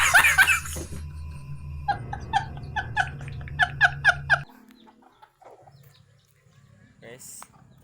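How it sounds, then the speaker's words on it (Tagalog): A burst of hen clucking gives way to a rhythmic run of bright chick peeps, repeated about ten times, before things drop to faint, scattered sounds. "Guys, ito pa yung mga sisiw ko sa inyo guys."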